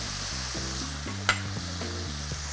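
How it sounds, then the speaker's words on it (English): Sauce mixture and scallions land in a wok of frying prawns for Chiu Chow chili prawns, producing a steady loud sizzle with a stirring clatter and one sharp knock partway through. "Then next, we're going to put in the sauce mixture. And also the scallions."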